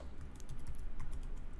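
Rapid, soft keystrokes tap on a computer keyboard during typography work, a quiet, steady patter with no voices over it.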